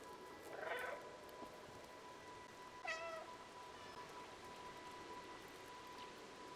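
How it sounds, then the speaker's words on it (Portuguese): Two short, faint meows from the stray cat character in the video game Stray, the first near the start and the second a few seconds later, over a quiet background hiss. "Vamos miar, galera, a gente pode miar"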